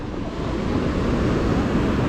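Sea surf rolling onto a beach in La Union, Philippines, a steady broad wash of breaking waves with some wind rumble, continuous and fairly loud with no clear gaps.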